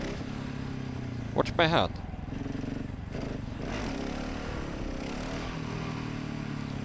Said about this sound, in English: I even increased the throttle a little bit, but I'm pressing down on the rear brake to bring the wheelie down.